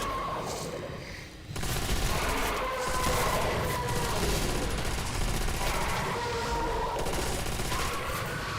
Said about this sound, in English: The shotgun is so good on the hounds